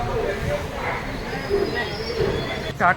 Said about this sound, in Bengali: ট্রেন এসে পৌঁছলো তার ডেস্টিনেশন আসানসোল জাংশন